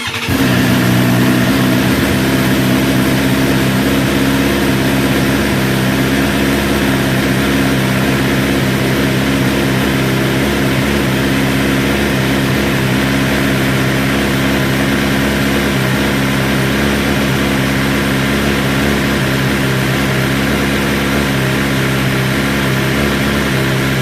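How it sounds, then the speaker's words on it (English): A BMW motorcycle engine starts and settles into a loud, steady idle with a constant low rumble held close and unbroken for the whole stretch, no talking. "Let me start the bike up and see if it gives us any different information."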